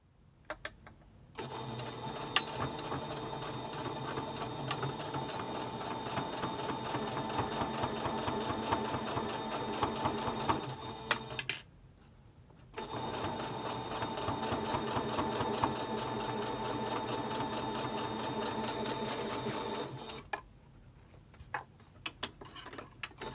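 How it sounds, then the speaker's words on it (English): A sewing machine stitches pleated fabric mask pieces together in two long continuous runs with a brief stop between them, a close, steady rapid whirring with faint ticks. "you would do a stitch line across to sew them together"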